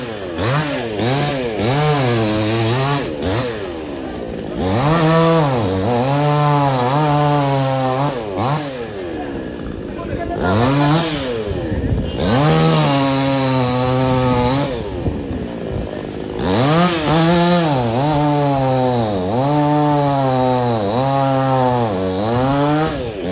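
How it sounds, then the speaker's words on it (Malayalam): A chainsaw cuts through a tree that was leaning dangerously onto a high-voltage power line beside a state highway, its engine loud and close, revving and bogging down in repeated strokes with short idle gaps between cuts. "വൈദ്യുതി കമ്പികളിലേക്ക് ചെരിഞ്ഞ അപകടാവസ്ഥയിലായിരുന്ന മരം മുറിച്ചുമാറ്റി"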